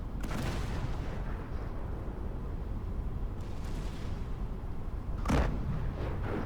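A breech-loading shell cannon in a Total War mod battle fires, with a loud boom near the end that rises out of a dense, continuous rumble of distant battlefield gunfire and noise.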